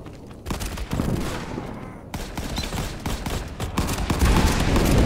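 Gunfire rattles in a World War 2 shooting game on a phone: dense, rapid bursts and overlapping shots, loud and continuous throughout, with a Remington 12-gauge shotgun in play.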